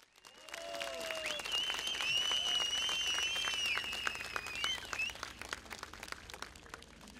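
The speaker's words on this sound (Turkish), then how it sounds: "İl başkanımızın şahsında bütün örgütü bir alkışlayalım." A crowd claps steadily at an outdoor CHP political rally in Menemen, İzmir, the applause swelling and holding while faint whistles and shouts ride over it before it thins out.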